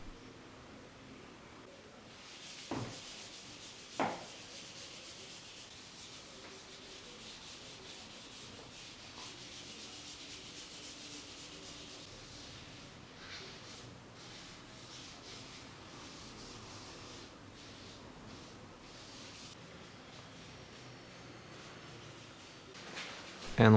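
Hand-rubbing varnish into a wooden bass guitar body gives a soft, continuous close-up rubbing and wiping hiss. A couple of light knocks sound near the start.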